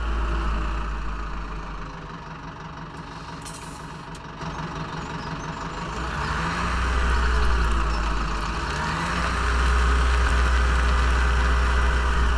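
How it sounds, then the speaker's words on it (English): A steady, low tractor engine rumble from the video game Farming Simulator 17 idles on, its drone swelling slightly louder partway through and holding there, with no one speaking. "I must admit that tractor sounds are greatly improved."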